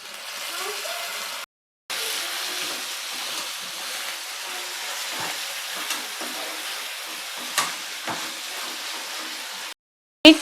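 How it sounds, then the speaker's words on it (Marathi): Tomatoes tipped into onions already browned in hot oil set off a steady, moderate frying sizzle, with faint stirring and scraping over the top and a couple of brief breaks in the sound. "आता टोमॅटो टाकूया."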